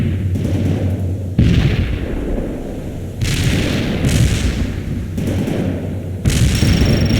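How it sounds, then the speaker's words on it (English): A video game mortar barrage gives repeated heavy booming blasts, about five or six loud thuds at uneven intervals, each with a broad rumbling tail. "Firing mortars. The barrage will reach you soon."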